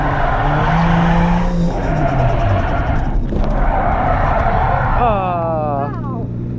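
A Toyota JZX100 Cresta with a poor clutch and worn tires is drifting at Ebisu. The engine roars loud and steady and the tires squeal and skid, ending in a wavering high squeal.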